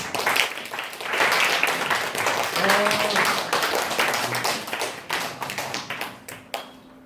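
Church congregation applauding to welcome a speaker, a dense wash of clapping that builds quickly, stays loud and steady for several seconds, then thins into scattered claps as it fades.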